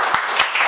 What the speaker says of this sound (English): Clap for him, everyone.